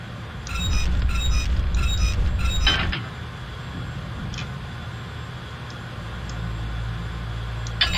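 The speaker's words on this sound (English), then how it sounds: "Opening butterfly door." The firebox butterfly door of a New York Central J-3a Dreyfuss Hudson steam locomotive in Train Simulator 2020 clatters through a run of quick clicks, then a sharp clank, after which the roar settles to a quieter steady cab hum.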